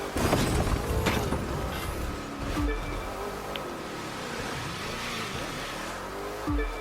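Race car drifting in The Crew 2 during a time trial: a loud engine drone with tire squeal through the turn, plus some sharp transient knocks.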